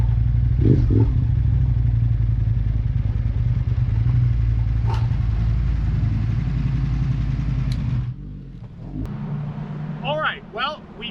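An Aprilia RSV1100 sport motorcycle is ridden, its engine a loud, steady drone for several seconds before it drops to a quieter, fluctuating rumble near the end.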